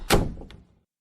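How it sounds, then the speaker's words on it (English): A door closing in an Unreal Engine 5 horror game, landing as a single dull thunk with a short rumbling tail and a faint click just after, heard alone with no talk. "when I go through the door close sound is delayed"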